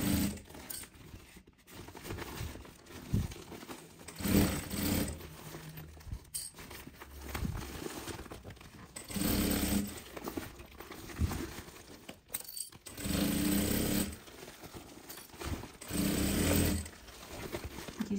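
A sewing machine with a size 16 needle stitches around a thermal bag, its motor rattling in bursts with brief pauses as the fabric is turned, close and moderately loud.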